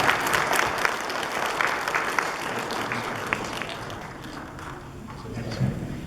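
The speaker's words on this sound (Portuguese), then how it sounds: "uma salva de palmas para eles que recebem a imagem" Congregation applause at a Catholic parish gathering as a couple receives a statue of Our Lady of the Immaculate Conception, dense steady clapping filling the room throughout, with a few louder claps standing out and fading slightly near the end.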